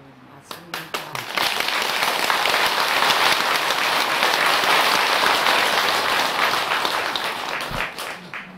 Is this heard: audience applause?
yes